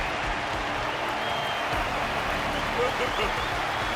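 Dense, continuous applause from a large crowd at a fight in the game Honkai: Star Rail, steady and loud throughout, with a voice talking over it.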